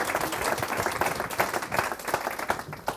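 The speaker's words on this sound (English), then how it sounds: "Please give Jackie a huge round of applause" An audience applauds at a property investment interview event, a dense, steady patter of many hands clapping at moderate volume for a few seconds.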